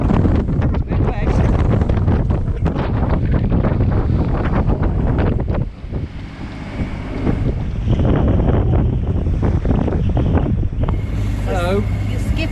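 Strong, gusting Mistral wind batters a sailboat off the coast of Sardinia. Heavy wind roar and microphone buffeting sit over splashing water, loud and continuous, with brief lulls and voices faintly underneath.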